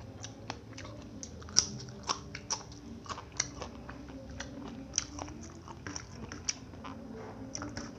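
Crunchy chili peppers are bitten and chewed close to the microphone, giving a series of sharp, irregular crisp crunches over a quiet background, with no speech.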